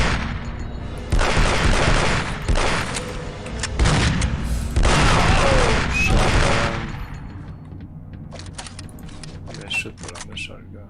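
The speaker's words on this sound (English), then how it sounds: "Shotgun." Shotgun blasts from a marine's weapon in Aliens vs Predator 2, several loud booming shots in quick succession before the noise drops to quieter ambience, with a voice heard over parts of it.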